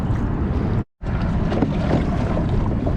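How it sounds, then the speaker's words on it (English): Wind blowing steadily across a lake at dusk, a broad, loud rushing roar buffeting the microphone, unbroken apart from a brief dropout near the start. "The wind's picking up"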